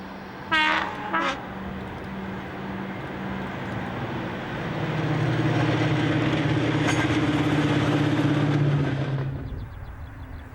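A Deltic diesel locomotive passes Colton Junction on the Doncaster to York leg, sounding a brief two-note horn before its heavy engine roar builds and drones steadily past, close and loud, then fades at the end.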